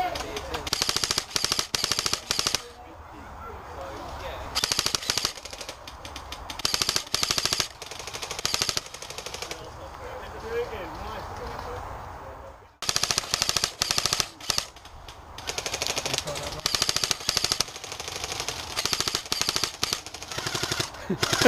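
Airsoft guns firing during a game at Lane End, rapid bursts of automatic clicking shots in repeated volleys with quieter pauses between, fairly close, with some faint voices in the gaps.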